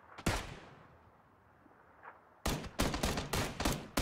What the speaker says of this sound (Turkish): Her yerden sıkıyorlar.